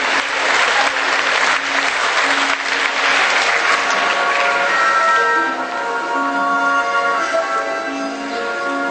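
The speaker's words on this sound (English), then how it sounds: "Audience, give him a round of applause as he comes up on stage to help me." Theater audience applauds as a volunteer walks up on stage at a magic show, dense clapping that holds for about five seconds, then thins and tapers while sustained musical tones rise underneath.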